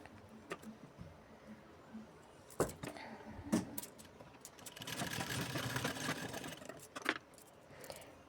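A sewing machine stitches tucks on the back of a blouse, with a few scattered clicks and handling taps before a steady whirring run of a couple of seconds near the middle, then more taps.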